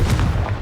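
A short, punchy blast from the Confringo explosion spell in the Hogwarts Legacy video game: one loud, low boom at close range that cuts off quickly.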